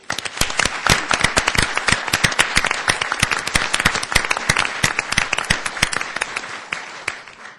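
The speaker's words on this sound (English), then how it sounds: "I think they should stand up so we can give them a round of applause." A law school audience at a panel on prison overcrowding gives a round of applause: many close hands clapping, loud and continuous for about seven seconds, fading slightly at the end with no talking.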